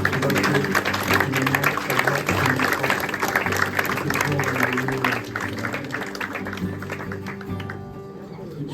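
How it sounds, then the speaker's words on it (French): A church congregation claps together in praise during a Sunday morning service, a steady dense wash of applause mixed with music and voices that carries on throughout and eases off slightly toward the end. "Je vais donner un applaudissement au Seigneur ce matin pour ce qu'il a fait."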